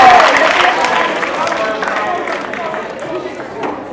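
A school audience gives a student a round of applause after a presentation, with steady dense clapping that is loud at first and slowly tapers off.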